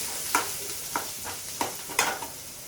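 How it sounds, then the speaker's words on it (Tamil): Onion sautés in a pan with mustard seeds and cumin for ridge gourd kootu, giving a close sizzle punctuated by several sharp spatula scrapes and taps. "வெங்காயம் போட்டு கொஞ்சம் வதக்கி"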